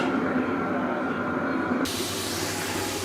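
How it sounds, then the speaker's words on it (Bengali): Boiled red amaranth greens hitting hot oil in a home kitchen pan, producing a steady loud hiss and sizzle that continues throughout, with a voice speaking over it. "লাল শাকটা অতটা লাল না, এখানে সিদ্ধ হয়ে গেছে, এখন তেলে দেব।"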